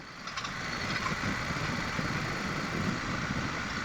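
Dual sport motorcycle engine held around 2,800 RPM while climbing a hill, a steady close-up mid-pitched drone mixed with wind buffeting and no clear change in pitch over a few seconds.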